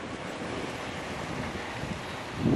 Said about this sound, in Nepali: चिसो चिसो हावा